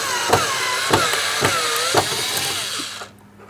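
Phillips head screws being backed out of a door panel on a 2003-2007 Cadillac CTS, a close mechanical whirring with a few sharp clicks at regular intervals, then stopping abruptly.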